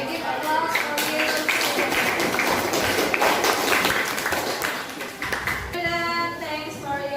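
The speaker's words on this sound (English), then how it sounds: "Okay, give applause for you." A class claps after student presentations in an English lesson, dense mixed clapping with voices and noise blended in, loud and continuous, easing briefly before picking up again.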